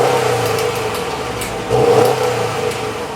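A 2020 Subaru WRX STI sedan revs through its quad-tip dual exhaust, a steady, loud engine note that swells briefly into a stronger rev about halfway through, with no talking.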